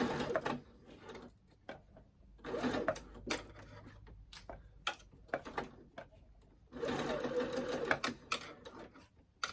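A sewing machine stitches the gathered bodice of a self-drafted sundress in short, uneven bursts of rapid mechanical chatter, pausing between runs as the fabric is adjusted, close and fairly loud.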